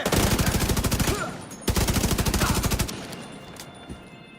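Rapid automatic gunfire rattles in Tom Clancy's The Division 2, two sustained bursts of evenly spaced shots separated by a brief pause, loud and close, then tapering into quieter ambient game sound.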